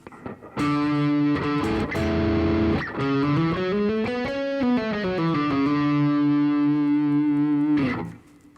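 A distorted electric guitar plays a D Lydian scale, single notes stepping up and back down in a steady line, loud and close, with no talking.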